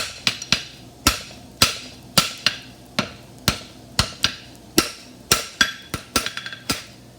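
A hammer strikes a heartbar horseshoe at the forge in a steady rhythm, sharp ringing blows about every half second, close and loud, ending in a quicker flurry of lighter taps.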